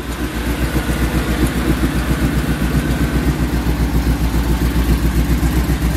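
A supercharged Oldsmobile Cutlass engine idles close up with a loud, lumpy, rhythmic rumble, steady pulses repeating evenly with no talking over it.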